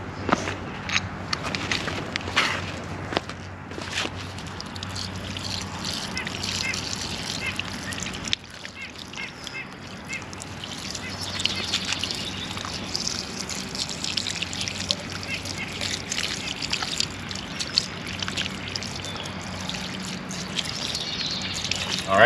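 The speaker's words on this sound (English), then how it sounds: "Okay, let's hose that off." A garden hose rinses degreaser off a dirty, grease-caked lawn mower, a steady close spray and splatter of water running continuously with slight shifts in intensity.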